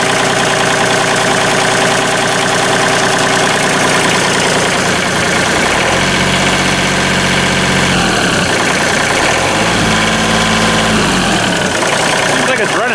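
A John Deere 2032R compact tractor with a fuel issue runs after throttle-up, its engine humming loud and steady close by with shifting pitch and rhythmic pulsing, and someone talks over it.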